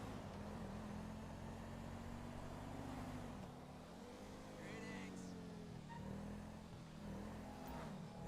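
In a video game chase, a sports car and a police car rumble along as a faint, steady engine drone whose pitch wavers with acceleration, while a voice talks over the top.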